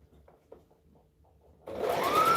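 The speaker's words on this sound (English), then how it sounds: "I love my overlocker." An overlocker sewing machine starts up after faint handling noises and runs steadily at speed, a loud, close, continuous whirring hum that builds slightly.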